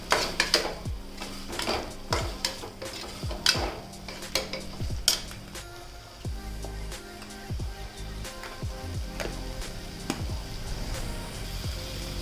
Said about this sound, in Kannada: ಅರಿಶಿನ ಹಾಕ್ಕೊಂಡು ಫ್ರೈ ಮಾಡ್ಕೋತಾ ಇದ್ದೀನಿ.